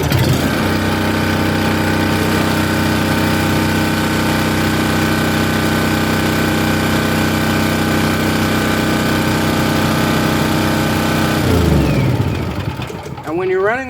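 A Champion dual-fuel generator engine runs steadily on propane with a constant droning hum. It winds down and stops near the end.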